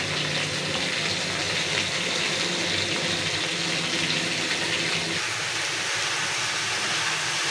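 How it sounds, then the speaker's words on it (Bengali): Tap water running steadily into a sink while cut bottle gourd is washed in a home kitchen, a continuous close splashing hiss throughout with no talk. "লাউ কাইটা আমি ধুইয়া নিচ্ছি"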